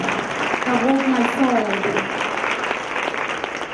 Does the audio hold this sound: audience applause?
yes